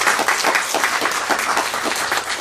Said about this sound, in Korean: 우리 찬양대원들에게 우리 격려의 박수를 전합니다